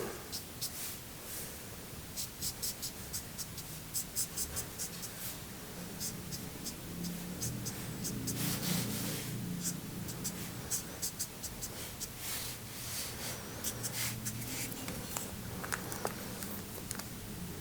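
A pencil sketches the background of a football scene, including a goal, on paper. The scratching strokes are faint and steady, with a few light taps and rustles over quiet room noise.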